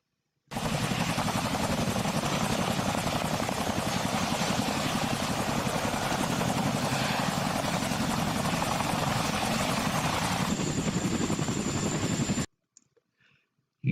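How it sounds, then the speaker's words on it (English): Chinook twin-rotor helicopter heard close and loud, a steady dense whirring drone with rapid beating that holds for about twelve seconds before cutting off abruptly. "you should have been able to detect the double whir of the Chinook"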